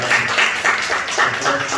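A church congregation at a Sunday service claps briefly in a quick, even rhythm, a short burst of close clapping with some voices murmuring underneath.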